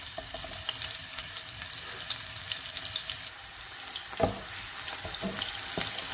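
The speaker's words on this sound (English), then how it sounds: "Fry the onions for about 20 seconds until it starts getting golden" Onions frying in vegetable oil for chicken tikka masala make a continuous crackling sizzle, with a few sharp clinks and stirring sounds scattered through it.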